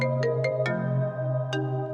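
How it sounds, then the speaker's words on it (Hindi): A mobile phone rings with an incoming call, a repeating melodic ringtone of bright tones over a steady hum, loud and close, with no talking. "समीना का फोन?"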